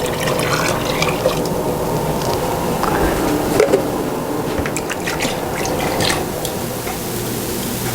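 Half and half being poured into a pot of chicken corn chowder, a steady soft liquid stream with faint drips and wet trickling throughout, close and alone with no talk.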